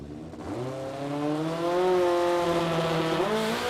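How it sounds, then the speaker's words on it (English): Mustang drag car with a Toyota Hilux 2.7 engine and a Glide transmission launching at a sports compact drag racing meet, the engine note rising steadily in pitch as it pulls hard down the strip, loud and sustained. "let's just see what he can run here with the Mustang"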